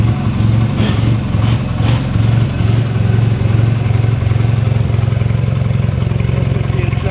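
A 1983 Craftsman GTV/16 Varidrive garden tractor engine runs steadily close by and throttles up, its loud, continuous drone climbing slightly in pitch, with no talk.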